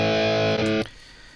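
An electric guitar track with a distortion plugin plays in a studio mix, holding one thick, buzzing chord for under a second before it cuts off, leaving only a faint hiss.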